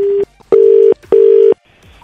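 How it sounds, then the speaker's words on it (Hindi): A telephone line gives a steady repeating tone after a call is hung up, with three loud beeps separated by short gaps and a quieter hiss toward the end. "मैं फोन रख रहा हूँ भाई।"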